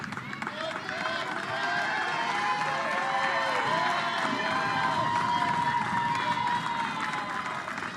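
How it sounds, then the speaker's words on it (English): A Little League softball crowd of St. Clair, Michigan fans applauds and cheers steadily for a pitcher leaving the game, a continuous wash of clapping and voices with an announcer talking over it. "a big smile as she gets the ovation from the crowd who made the trip from St. Clair, Michigan"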